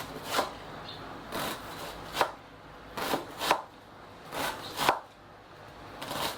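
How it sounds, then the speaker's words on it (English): Knife chopping through an onion in short bursts of rapid cuts, crisp and close, separated by brief pauses. "So next, we're going to chop this onion."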